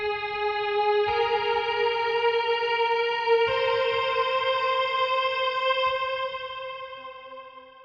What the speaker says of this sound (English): And it also has a chorus and a delay that's been added.